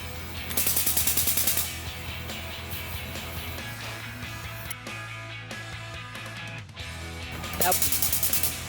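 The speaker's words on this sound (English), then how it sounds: "This is an air grease gun we're using to grease the machines with." Air-powered grease gun working on the pins and levers of a Bobcat loader: loud rapid pneumatic rattling bursts at the start and end, with a steady mechanical hum and clatter in between, close to the mic.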